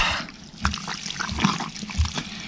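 Stream water channelled through pipes in the Quito highlands, a close trickling and gurgling flow with uneven splashy pulses and a faint low rumble underneath, no voices.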